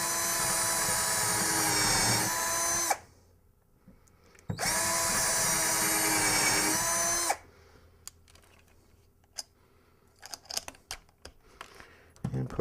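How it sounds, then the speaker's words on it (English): A screwdriver drill boring holes and driving one-inch drywall screws into a pedalboard frame: two loud, steady whirring bursts of about three seconds each, close up, followed by quieter clicks and handling knocks. "we'll drill our holes."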